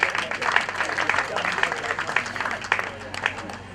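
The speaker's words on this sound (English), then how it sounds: "Please, let's give him a round of applause." Community gathering applauds an honored Okaighele of Ulemon community, a moderate wash of many hands clapping steadily for a few seconds, with some voices underneath.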